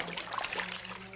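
Hot water runs and trickles into a bath in a steady, close stream lasting about a second, with no voices over it.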